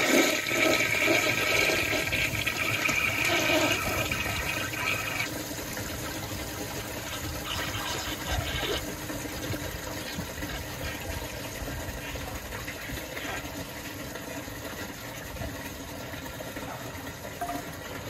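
A 1981 Kohler Highline toilet flushing a washcloth, a loud rushing swirl of water right up close that gradually eases into a steady refill hiss over about eighteen seconds.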